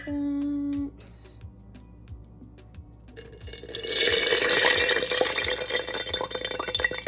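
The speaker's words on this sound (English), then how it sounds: "So now that it's all melted, I'm going to pour it into my mason jar." Melted coconut and avocado oil poured into a mason jar, a steady liquid trickle and splash against glass building after a faint beep, continuing several seconds without talk.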